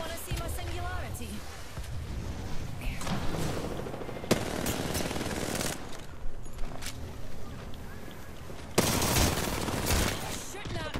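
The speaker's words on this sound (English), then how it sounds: "You're shooting at me." Rapid automatic gunfire rattles in a video game, dense bursts of shots running through most of the clip at moderate level, with voices speaking over the shooting.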